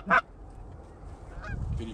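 A Canada goose honks during a goose hunt, one sharp honk at the start and fainter calls later, over a steady outdoor background.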